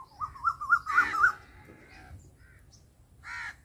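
An Asian koel calls close by: a rising whistled note, then a harsh burst and a later second call, set against a quiet outdoor background.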